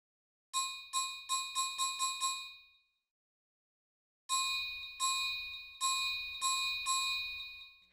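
A Yamaha RX5 drum machine voice, CP11, with its pitch and envelope altered, strikes as bright bell-like metallic hits: six quick decaying ones in a row, a pause, then five longer ringing hits, loud and with no talk over them.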